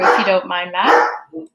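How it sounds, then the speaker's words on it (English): A dog barks several times in a short burst close by, loud and overlapping someone speaking during an online meeting. "I was worried there that your dog's barking would make my dog bark"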